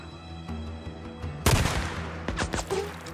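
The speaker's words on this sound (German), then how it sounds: "Hat er mich gerade angeschossen." A sudden burst of gunfire in Days Gone breaks over a low electronic hum, followed by several more sharp shots and crackling impacts.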